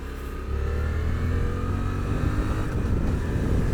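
A Suzuki V-Strom 800RE motorcycle engine drones steadily while riding, a low rumbling hum that rises in after a brief quieter start, mixed with wind rush.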